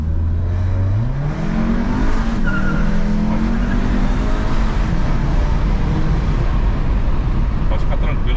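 A 500 hp Volkswagen Passat accelerates hard, its engine note climbing steadily while the tires squeal and skid, loud and close, with people talking inside over the roar.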